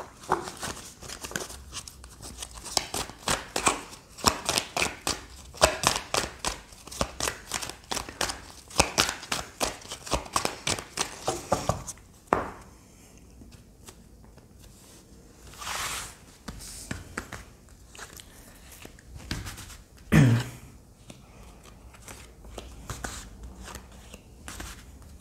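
Tarot cards being shuffled by hand in a rapid riffling run, followed by quieter pauses with a few separate card slides and taps as cards are drawn and laid out, close by with no talking.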